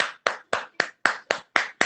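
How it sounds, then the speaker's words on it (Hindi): A single person claps eight times in a steady rhythm, close and fairly loud, to welcome Ritu ji onto a stage at an event. "तो जोरदार तालियों के साथ रितु जी का स्वागत करते हैं अपने मंच पे"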